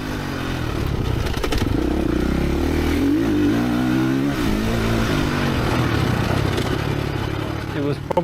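A Ducati Desmo 450 MX 2025 motocross bike engine revs steadily and loud throughout, a continuous mechanical roar with rising and falling pitch and some clatter.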